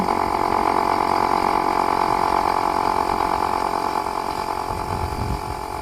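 A nearby air compressor runs continuously, building pressure toward its shutoff, with a steady loud motor drone and pump hum that stays even throughout and eases off only slightly toward the end.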